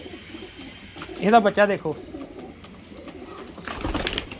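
A pigeon gives a short burst of low, throaty cooing in a breeder loft, moderately close, surrounded by quiet room noise and brief speech.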